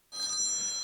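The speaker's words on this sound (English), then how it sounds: "phone's going." A telephone in a workshop starts ringing abruptly after a brief silence, a bright, steady electronic bell tone that holds loud and close for the rest of the moment.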